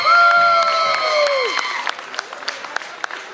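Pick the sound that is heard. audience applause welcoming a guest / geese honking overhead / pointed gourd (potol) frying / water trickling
audience applause welcoming a guest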